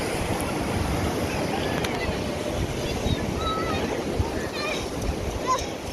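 Beach waves and water washing in on the shore, a steady broad rush with wind noise on the microphone, continuous and fairly loud throughout.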